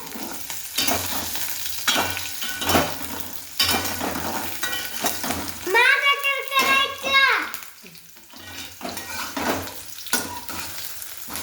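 Onions frying in a pan until browned for quick poha, with curry leaves, steady sizzle and stirring scrapes mixed with intermittent nearby voices and a child's chatter.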